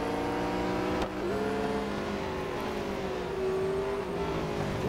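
McLaren 765 LT with its 765-horsepower engine racing in Real Racing 3, loud sustained engine whine climbing and dropping with gear shifts, pitch sliding up after each change.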